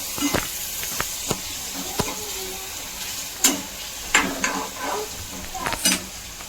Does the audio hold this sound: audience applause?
no